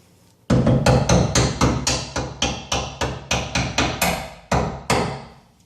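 A hammer strikes the forward leaf spring bolt on a 2013 Tacoma fitted with Old Man Emu Dakar leaves, about fourteen loud close metallic blows in a steady rhythm with two short gaps.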